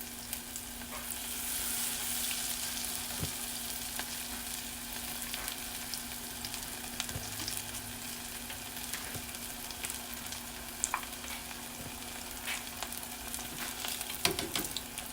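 Battered homemade onion rings deep frying in hot oil, a steady dense crackling sizzle running throughout with scattered sharper pops and no voices.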